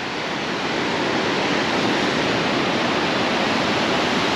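Waterfalls at the 4000 Islands in Laos, a steady loud roar of rushing water with no breaks, constant and close.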